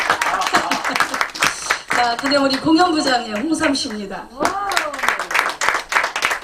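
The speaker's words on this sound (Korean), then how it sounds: "자, 박수 한번 쳐주세요." Members of a performing troupe's gathering clap as new members are introduced one by one, bursts of scattered hand clapping mixed with someone speaking over a microphone, and brief laughter.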